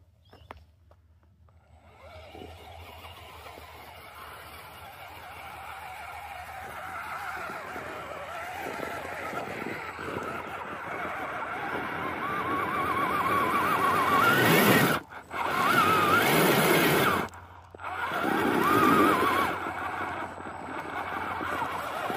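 A brushed-motor RC crawler strains up a steep hill, its electric motor whining louder and higher as it climbs, with brief cut-outs and surges of throttle.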